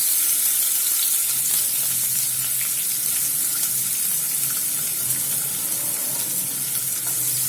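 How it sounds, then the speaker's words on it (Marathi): Crushed garlic frying in hot oil with cumin and mustard seeds, a steady, loud, hissing sizzle that runs without break and holds the same intensity throughout, with no voices over it. "जिरे मोहरी व्यवस्थित झाले की याच्यात आता आपण आपला ठेचलेला लसूण टाकून देऊया"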